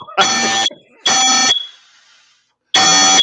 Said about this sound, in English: You got to smoke detector going off